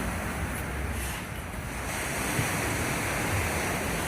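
Sea waves wash and hiss continuously along the Yalta embankment in Crimea in April, a dense, steady surf roar with wind noise on the microphone and no talking.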